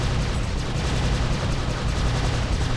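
Dense, continuous gunfire from Prey (2006) rattles loudly without a break, a rapid wall of shots and blasts lasting about three seconds with no voices over it.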